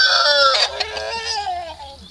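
Backyard chickens cluck and squawk close by in a short, loud burst of rising and falling calls, with a faint hum underneath.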